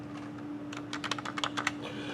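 Fingers tapping a computer keyboard in a short quick burst of clicks, close and fairly quiet over a steady electrical hum.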